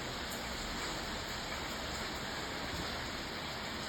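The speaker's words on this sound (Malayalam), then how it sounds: "അതിൻ്റെ പകരമായി ഇന്ന് രാത്രി തുടങ്ങി മഴ" Heavy rain falling steadily after a whole night of downpour, a soft, even hiss that stays unbroken and fairly faint throughout.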